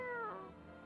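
A pet cat gives a single short, falling meow close by, brief and fairly quiet, with no one speaking over it.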